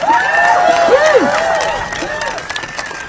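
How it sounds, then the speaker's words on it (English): A crowd at a Harvard rally for international students claps and cheers loudly, with high whoops and shouted voices rising and falling over the clapping before it tapers off slightly. "And another immense round of applause for Professor Ryan Enos"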